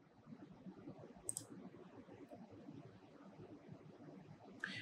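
A mouse clicks to submit an online application form for a marine engineering graduate program: a quick double click, then one more click near the end, quiet and close over faint background hiss.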